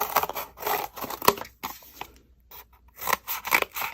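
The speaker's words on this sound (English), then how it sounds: "go ahead and cut a piece of cardboard" A piece of cardboard is cut in a series of close, crisp snipping and slicing strokes, with a brief quiet pause midway before the cutting resumes.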